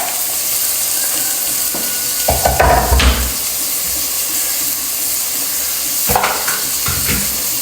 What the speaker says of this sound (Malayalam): അപ്പോൾ ഇതിലേക്ക് തക്കാളി ചേർത്ത് കൊടുക്കാം.